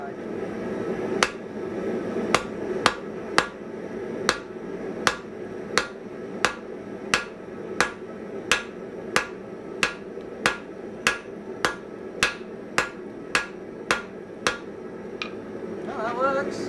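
A newly made rounding hammer strikes in a long, even series of about twenty sharp metallic blows, spaced under a second apart, with a low ambient hum and a short bit of talk near the end.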